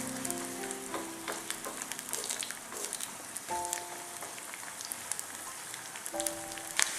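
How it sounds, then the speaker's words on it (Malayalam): Grated coconut frying in coconut oil for a Malabar-style idichakka (tender jackfruit) masala curry, a continuous crackling sizzle with small spitting pops and occasional stirring scrapes, moderately close. "ഈ തേങ്ങ ഇട്ട് കൊടുക്കാം. ഈ തേങ്ങ നന്നായിട്ട് മൊരിഞ്ഞ് വരണം."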